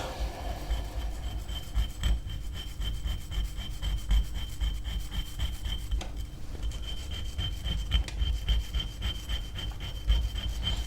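A coarse stone rubs back and forth across a Mazda 13B rotary engine rotor, a steady gritty scraping with a regular stroke rhythm, close and fairly loud with no talk.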